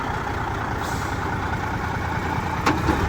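A broken-down Peterbilt 379 truck runs rough nearby, its engine a steady, loud, grinding rumble that holds throughout with a brief hiss near the end; no one speaks.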